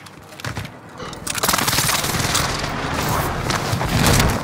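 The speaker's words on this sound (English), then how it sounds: "Airstrike target marked. This is Phoenix 3. Strike inbound." Airstrike explosions in a battle royale video game: a dense, continuous roar of booms and rapid blasts that swells and stays loud throughout, with a faint radio voice at the start.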